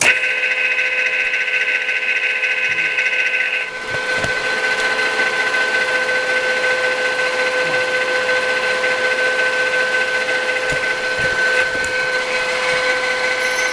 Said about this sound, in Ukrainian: Тобто воно само їде і ріже останній зуб.